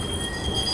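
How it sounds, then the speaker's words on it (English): A Blackpool tram runs along Talbot Road during testing, giving a steady, close rail rumble with high-pitched wheel squeal held throughout the brief moment. "I might actually get to have a ride on this tram that's going along Talbot Road as part of the testing this week"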